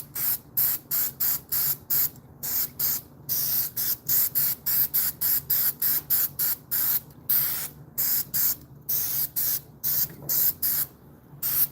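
An aerosol can sprays in a rapid series of short, loud hissing bursts, one after another with brief gaps, close up and with no talking.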